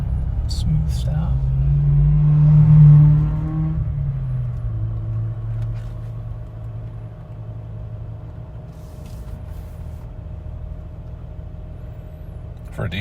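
A 2021 Jeep Wrangler turbo diesel driving, with a steady low engine rumble and road noise that swells briefly as it pulls away from a stop, then settles into a quiet, even drone.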